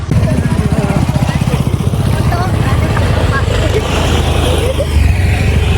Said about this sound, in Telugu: బైక్ల మీద కూడా వెళ్తున్నారు బై డైరెక్ట్గా.